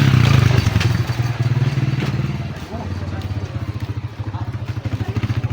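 On a mountain road, a motorcycle engine drones close by with a low, throbbing pulse that rises and falls as it passes. Footsteps and clatter sound near at hand and voices talk intermittently.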